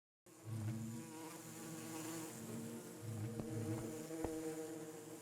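Bees buzz steadily in modded Minecraft (All The Mods 10), a dense insect drone that holds close and even throughout, with a couple of soft clicks near the end and no talking.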